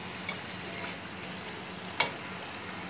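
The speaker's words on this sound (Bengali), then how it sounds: "তো পুরিগুলো আমি এখন তেলে ভেজে নিব।" Puris frying in hot oil for aloo puri, a steady quiet bubbling sizzle with a few soft stirring clicks and one sharper tap, no voices.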